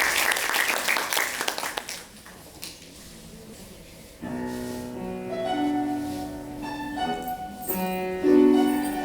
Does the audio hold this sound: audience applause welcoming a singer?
yes